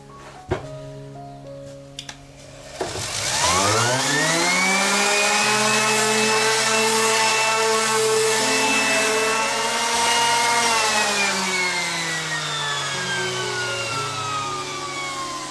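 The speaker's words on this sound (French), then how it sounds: "Donc là maintenant je vais le poncer" Power sander lightly sanding a wall before filler goes on, a loud continuous whine that spins up after a few soft knocks and holds steady close by to the end.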